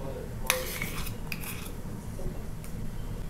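A spoon scrapes and clinks against a bowl while chutney is mixed into batter, with one sharp metallic tap near the start and a few softer knocks over a quiet background hiss.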